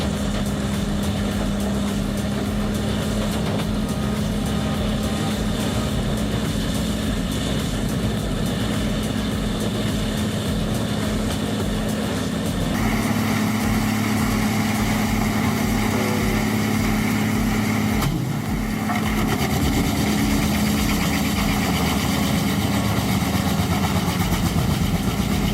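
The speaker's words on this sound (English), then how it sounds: "The industry's leading wood crusher with its powerful design and impressive motor." Loud, continuous droning roar of the Bandit Beast 4680 wood crusher's engine running at steady load, with grinding noise that shifts in tone partway through and briefly dips before surging back.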